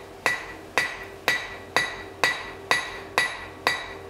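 A hammer strikes a leaf key-chain being forged on the end of a metal bar, eight evenly spaced ringing blows about half a second apart, each bright and metallic with a short decaying ring.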